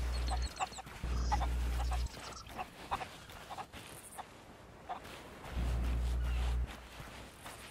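Chickens in Sea of Thieves cluck repeatedly in short, uneven bursts, some close and some further off, over an intermittent low drone, with occasional brief speech.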